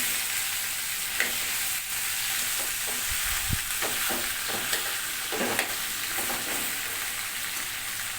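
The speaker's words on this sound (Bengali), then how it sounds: "এখানে মাছের মাথাটা কিন্তু ভাজা হয়ে গেছে" Fish head frying in a pan of oil for Bengali khichuri: a steady close sizzle runs throughout, with occasional stirring scrapes and soft clinks, and no one talking.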